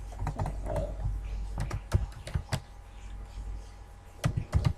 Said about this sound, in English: I'm gonna type here the name ISP